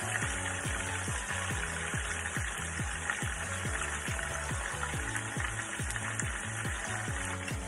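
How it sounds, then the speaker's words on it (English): A whole black snapper fries in hot oil in a pan, a steady low sizzle with a rhythmic bubbling pulse repeating about twice a second, faint and without talk. "Now while the fish is frying"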